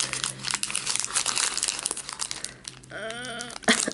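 A card booster pack crinkles and crackles as cards are worked out of it, close and busy with irregular rustling bursts, then a brief voice near the end.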